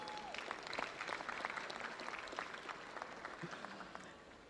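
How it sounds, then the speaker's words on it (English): Applause from the audience at the 26th Telecel Ghana Music Awards, a steady wash of many hands clapping that fades slightly toward the end, with faint tonal sounds mixed in. "a round of applause."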